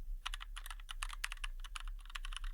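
Rapid taps on a touchscreen phone keyboard while typing a search into a Chrome browser, a quick irregular run of close clicks with short pauses, no voices.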